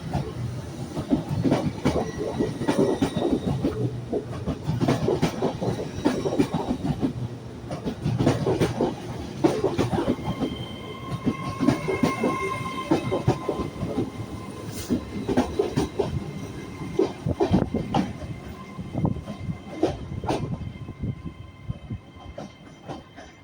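A Northern Class 158 diesel multiple unit pulls away from Carlisle station on the West Coast Main Line, its engine loud and close, with steady rumble and rhythmic clickety-clack of wheels over rail joints throughout.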